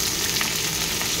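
Vegetables fry lightly in a pan for dalia khichdi, giving a steady, soft sizzle that holds evenly from start to finish with no voices.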